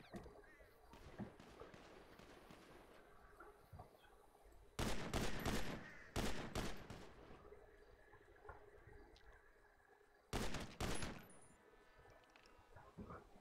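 Gunfire in an online PvP crew fight game: three loud bursts of rapid shots near 5, 6 and 10.5 seconds over a steady background of distant firing, with someone talking intermittently between them.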